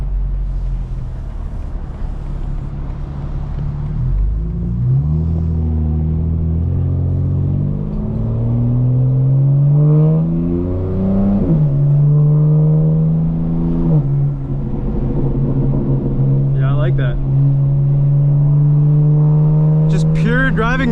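Tuned 900 HP 2025 BMW M4 Competition xDrive, heard from inside the cabin, with a steady engine drone that climbs and drops through several gear shifts, plus road rumble and wind, loud and continuous throughout.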